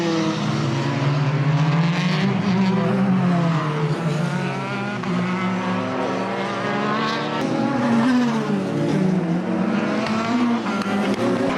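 Race cars roar around the Mondello circuit, engines droning loud and steady with rising and falling pitch as they pass, no voices over the racket.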